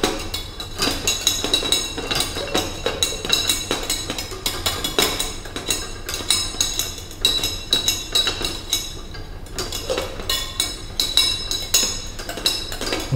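Water in a container over an ethanol burner being stirred during an alcohol combustion experiment, giving a steady run of sharp metallic clinks and scrapes that repeat close up with no one talking.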